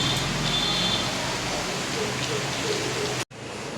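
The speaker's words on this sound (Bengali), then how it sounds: "দেখো কি পরিমাণে আবার বৃষ্টি শুরু হয়ে গেছে" Steady rain falls during a spell of heavy, repeated showers, a dense continuous hiss close by that cuts off abruptly near the end.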